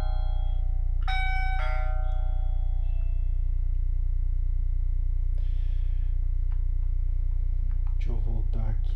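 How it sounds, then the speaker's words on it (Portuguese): Wireless doorbell pressed as part of a home automation setup, ringing a clear two-note chime near the start over a steady low electrical hum, with brief talk toward the end. "dessas vezes que ele apertou a campainha"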